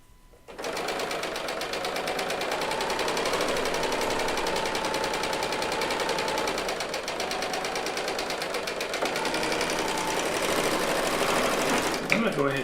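A serger runs continuously, chaining off the end of a quilt-top seam, its fast, even mechanical whir holding steady at close range for nearly the whole stretch.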